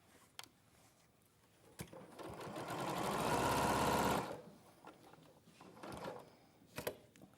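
A sewing machine running a straight stitch whirs up to a steady, rapid mechanical hum for about two seconds, framed by soft clicks and fabric handling before and after.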